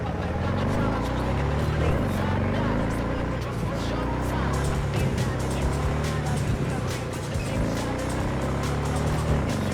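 Engine of a car in Cyberpunk 2077 revs and accelerates steadily for the whole stretch, a loud continuous drone with shifting pitch and hints of tire noise, while someone talks over it.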